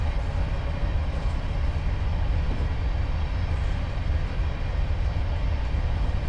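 A Class 374 train running in a train simulator game, a steady loud low rumble of wheels and motors that rolls on evenly without a break and with no talking.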